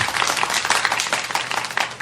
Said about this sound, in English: Let me give you another rousing round of applause.